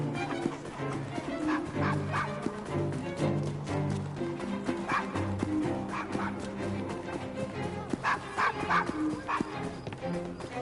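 A dog barks and yips repeatedly in the video game Assassin's Creed Syndicate, the calls mixed into a dense, loud bed of game music and ambience.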